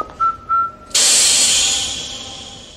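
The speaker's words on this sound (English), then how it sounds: "There are some really cool ones that I've missed, such as the whistling keychain from The Living Daylights." The whistling keychain gadget from the Bond film The Living Daylights gives two short, clear whistle notes, then a sudden loud hiss of spraying gas that slowly fades.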